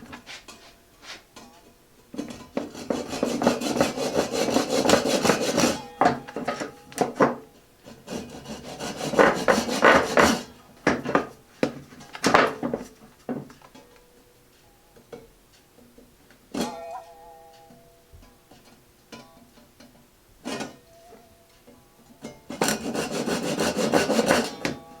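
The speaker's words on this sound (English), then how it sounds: "Then I'm going to cut it at a little bit of an angle, like 30 degree, 40 degree angle, something like that, just to score the edges." Hand sawing of a wooden table leg blank at a 30 to 40 degree angle to score its edges, heard as several bursts of rhythmic rasping strokes separated by pauses with a few knocks, close and fairly loud.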